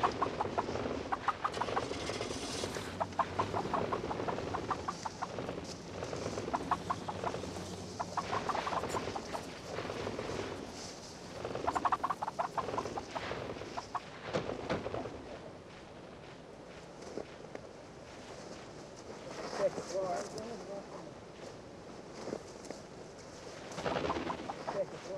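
Captured wild turkeys in crates clucking and stirring while people hurry about loading a truck, with footsteps, rustling and scattered bird calls close by and continuous over about 25 seconds.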